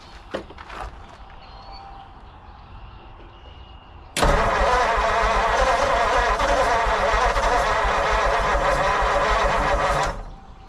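A 1940 Mercury flathead V8 engine, unrun since the 1970s, cranks and catches, then a loud rough idle holds steady for several seconds before cutting off abruptly; brief clicks and faint movement come before.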